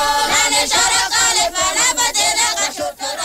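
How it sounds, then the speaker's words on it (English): A Betsileo choral song from Madagascar, a loud, dense group of voices singing together with rhythmic pulsing energy, full and close, with no speaking voice over it. "This is a song of the Betsileo people of Madagascar"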